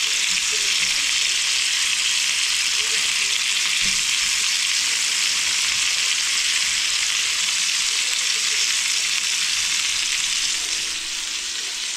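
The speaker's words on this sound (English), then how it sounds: "Just frying off a bit of the beef." Beef frying in a pan for a budget beef stew gives a loud, steady sizzle and crackle, close and continuous throughout with no talking.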